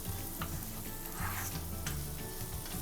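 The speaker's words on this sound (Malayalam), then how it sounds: "അതിലേക്ക് നമ്മൾ എടുത്തു വെച്ചിരിക്കുന്ന ക്യാപ്സിക്കം ചേർത്ത് അതും കൂടെ ഒന്ന് ചെറുതായിട്ട് വഴറ്റി കൊടുക്കണം" Onion and capsicum sauté in a pan for home-made Gobi Manchurian, a continuous close sizzle broken by a few sharp clicks and scrapes of a spatula, with a low hum behind it and no talking.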